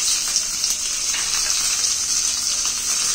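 Mustard seeds and curry leaves crackle and sizzle in hot oil while tempering for coconut chutney, a steady, bright, close frying hiss with fine popping running the whole time.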